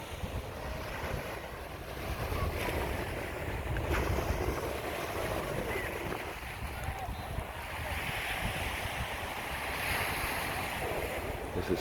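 Ocean surf rolls in steadily at South Beach in Miami Beach, Florida, a broad wash of waves mixed with wind buffeting the microphone, continuous and fairly distant with no clear speech.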